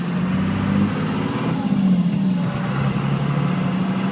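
Steady engine drone from inside a Cummins-powered Chevy crew cab truck on the road, a loud low rumble with slight pitch shifts as it cruises.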